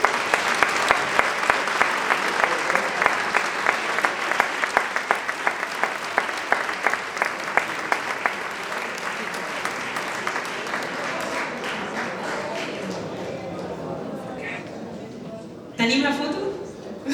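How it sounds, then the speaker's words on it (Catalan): A crowd at the opening ceremony of the 175th Candelera fair applauds loudly and steadily, the clapping gradually thinning out toward the end as a voice briefly speaks. "un fort aplaudiment per tots ells."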